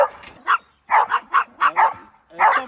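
A dog, the most nervous of its litter, gives a series of yappy barks and yips at close range in short irregular bursts.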